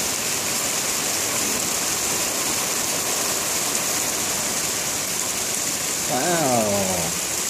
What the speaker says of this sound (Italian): c'è pure la cascata